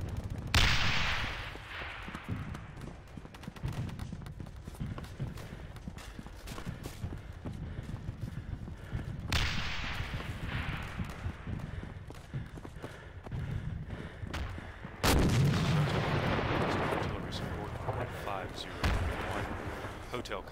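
Artillery fire in the WWII video game Darkest Hour: Europe '44-'45, set in the Battle of the Bulge: three heavy blasts at separate moments, each followed by a long rumbling tail, with voices talking over much of the bombardment.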